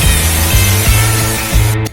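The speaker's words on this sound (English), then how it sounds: "compressed air again" Compressed air blasts over Yamaha FZR 1000 EXUP engine parts during a restoration, a loud continuous hiss with slight pulsing bursts that cuts off abruptly just before the end.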